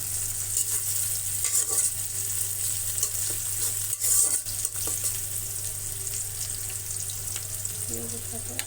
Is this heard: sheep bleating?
no